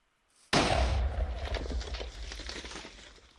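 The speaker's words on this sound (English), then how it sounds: "See how we have the one explosion there and then the second one out there?" A single loud explosion bursts suddenly after a moment of silence, then rumbles and crackles as it decays, triggered by a command in Minecraft.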